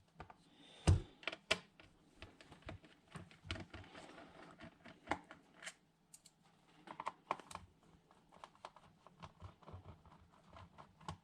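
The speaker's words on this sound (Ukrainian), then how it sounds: "для того, щоб зняти, клавіатуру, треба викрутити три болти" Small bolts are unscrewed from a Lenovo ThinkPad P51 laptop to free its keyboard, producing quiet, close, irregular clicks and ticks with a sharper knock near the start.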